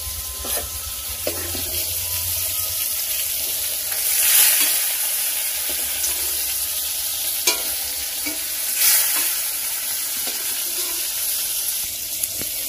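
Whole cumin seeds and halved dried red chilli sizzle in hot mustard-style fish-frying oil, a steady broadband hiss with brief louder bursts and occasional clinks of a utensil, close by with no talking.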